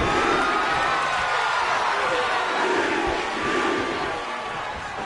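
A wrestling arena crowd roars and cheers steadily throughout a televised pro wrestling match, a dense, continuous wash of noise that eases slightly near the end.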